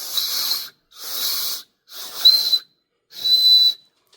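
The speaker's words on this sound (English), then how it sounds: "The whistle works. It's a little lacking." Four short blasts from a small whistle on the end of a Flissa multitool ferro rod, each breathy and airy with a thin tone, evenly spaced and close up.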